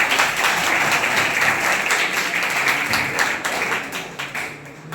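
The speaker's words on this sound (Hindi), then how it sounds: "बार अपने लिए जोरदार तालियों से" Loud, sustained applause from a crowd of children at a Beti Bachao Beti Padhao school event, dense steady clapping that slowly eases toward the end.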